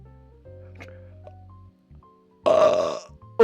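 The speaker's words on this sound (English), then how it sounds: "I got a burp." A man lets out a loud, rough burp near the end, a short gassy eruption after soft mouth noises and low hum, ending with a brief vocal sound.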